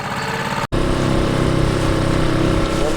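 A small new four-stroke outboard boat motor idles close by on a lake in a steady, chugging drone during break-in, broken by one brief dropout near the start.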